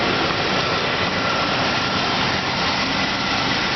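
A 1997 Chevrolet Suburban's 5.7 liter Vortec V8 idles in a steady, continuous low rumble with a broad hiss over it, heard up close with no voices.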